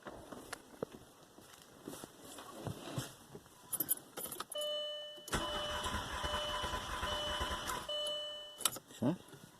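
A car engine with a compression tester attached is cranked over in a garage. Keys jingle first, then a steady churning crank runs for a few seconds before stopping, with no voices.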